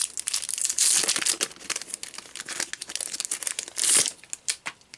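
Plastic wrapping crinkles and tears as a Wixoss trading card deck, the Black Desire starter deck, is unwrapped up close, in loud irregular bursts of crackling with two sharper tearing peaks.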